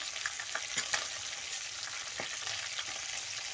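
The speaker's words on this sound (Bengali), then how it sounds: "মাছটা ভাজা হতে হতে আমি মশলাটা বেটে নেব মাছটা এক পাশ উল্টিয়ে দেবো" Bhola fish fries in a pan in hot oil, giving a steady close sizzle with a few sharp clicks and scrapes from stirring, and no voices.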